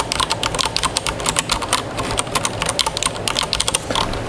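Keys on an Akko mechanical keyboard pressed lightly, a quick run of softer, close clicks and clacks in a continuous uneven typing rhythm.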